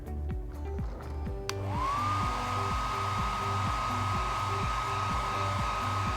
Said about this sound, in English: let's heat them up. Get the hairdryer.